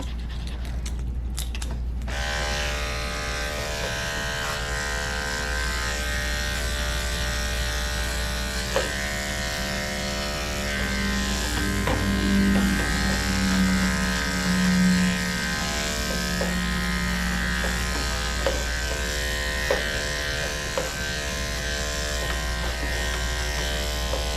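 Electric clippers fitted with a number 4 guard buzz steadily through the matted coat of a dog being groomed, a constant close hum with slight shifts in pitch as the blade works, sustained throughout without speech.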